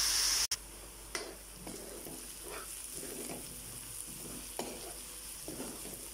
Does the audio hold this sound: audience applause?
no